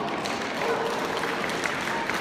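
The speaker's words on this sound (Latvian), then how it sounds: "Aplausi!" Steady crowd applause for a dog training school demonstration at Ķīpsala, dense and continuous, with many hands clapping at once at a moderate distance.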